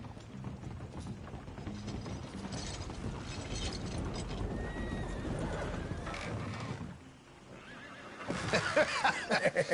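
A horse whinnies in the video game Red Dead Redemption 2, amid a busy, mechanical soundscape of clicking and ratcheting, with a louder burst of activity near the end.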